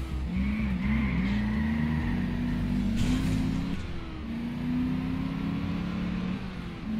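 A car in the video game Just Cause 2 drives with a continuous engine drone that rises and falls through gear shifts, with a brief tire skid partway through, loud and close with no talking.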